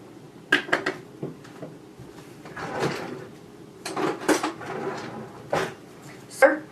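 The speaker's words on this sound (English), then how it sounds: "then we're going to slice them again in half, only horizontally" A knife slices zucchini in half horizontally on a cutting board, giving several sharp, close knocks spaced irregularly with softer scraping between them.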